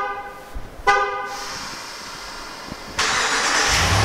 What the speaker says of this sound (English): The horn will beep and it's at its park position.